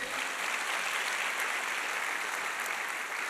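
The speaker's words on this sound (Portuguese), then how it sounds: "Dá uma salva de palmas a Ele." A congregation at a church teaching session gives a round of applause, a continuous wash of many clapping hands, moderately soft and steady throughout with no voices over it.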